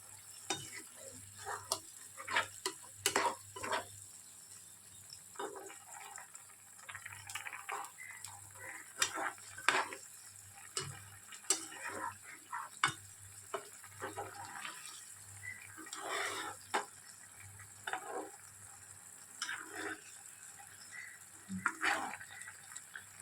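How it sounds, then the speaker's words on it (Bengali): Bele fish, about 300 grams, stirred slowly into mustard paste in a cooking pan for a Basirhat-style mustard curry: irregular close scrapes and soft wet clicks of the spoon recur over a faint sizzle and a steady low hum, with no talking. "এবার এটাকে আস্তে আস্তে মিলিয়ে দেবো।"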